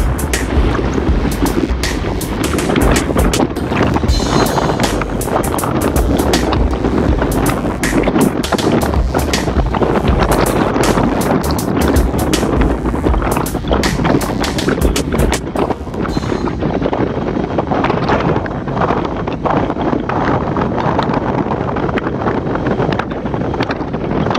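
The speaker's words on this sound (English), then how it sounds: "Very, very windy here." Strong wind buffeting the microphone during a group road bicycle ride on FM 1097 North, a loud continuous roar with gusty fluctuations, easing slightly in the last stretch.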